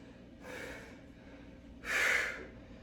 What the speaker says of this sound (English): Exhale as you bring it up.